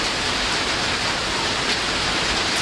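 Rain falling steadily outdoors, a dense, even hiss that stays loud and unbroken for a few seconds, with no voices.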